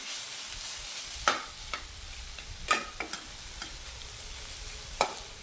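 A bread and vegetable mixture with turmeric sautés in a pan under a soft, low sizzle, punctuated by several sharp spoon scrapes and clinks at irregular intervals, with no talking.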